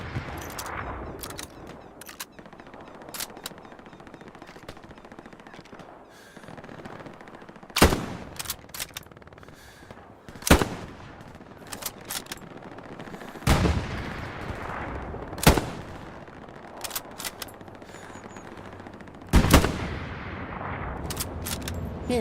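Gunfire in the World War II shooter Hell Let Loose, with sharp, loud single shots and short bursts every few seconds over a steady murky battlefield background.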